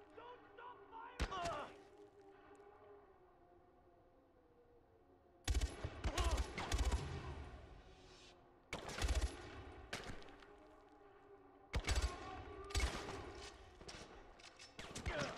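Automatic gunfire in the Far Cry 4 video game: a sharp shot, then several loud sustained bursts separated by short pauses, with quieter background sound between them.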